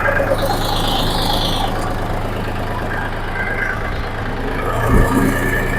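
A tractor engine runs steadily in second gear out in a field, a continuous low droning rumble with a faint hum above it, close and fairly loud throughout.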